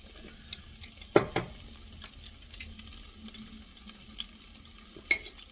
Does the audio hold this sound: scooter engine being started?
no